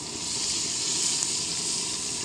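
Onions frying in hot oil with biryani masala, whole spices like cinnamon, cloves, star anise and bay leaf in the pan; a steady, close, bright sizzle and hiss runs evenly throughout, with no talking.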